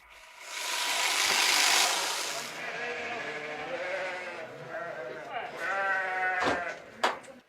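Sheep in a flock bleating during shearing time on a family farm, several close bleats overlapping and wavering, with a sharp knock near the end and a voice talking over them.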